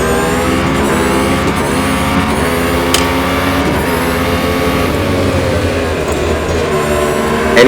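Race car engines in Real Racing 3 revving hard and accelerating, loud and continuous with rising and falling pitch sweeps as gears shift, several cars close together.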